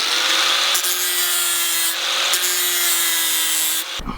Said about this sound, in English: We'll do that bit with the grinder.